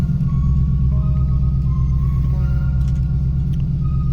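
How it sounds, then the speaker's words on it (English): A 2020 Ford Mustang sits running after starting, its engine a steady low rumble and hum throughout, with faint higher mechanical tones above it and no voices. "now foot on the brake, and we can start the vehicle up"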